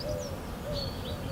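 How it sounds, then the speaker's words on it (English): Soft, distant wood pigeon calls repeat in a slow rhythm against a quiet outdoor spring background near beehives. "You hear the wood pigeons calling"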